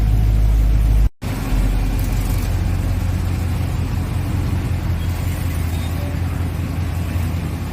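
A pickup truck being finished in a home yard, engine running loud and steady at close range as it pulls away on a test drive, with a brief cut near the start and a constant low rumble throughout.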